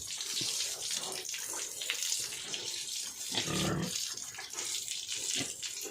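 Water splashes and runs while a pet pig is being bathed outdoors, a close, uneven gushing with intermittent bursts and splatters.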